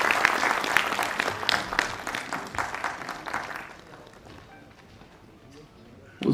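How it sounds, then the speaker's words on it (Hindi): Audience applause at a cooperative society's annual general body meeting greets the chairman, a dense burst of clapping that fills the first half and then thins into scattered claps and room noise. "कृपया अध्यक्ष जी का स्वागत करने का कष्ट करें तालियों के साथ"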